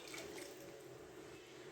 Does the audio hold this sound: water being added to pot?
yes